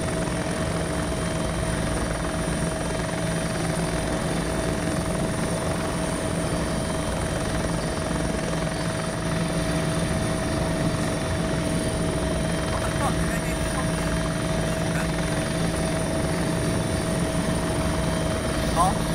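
A helicopter flies in the video game Arma on the Domination Lingor map, its rotor and engine making a loud, continuous, close drone with steady tonal whine that holds without a break.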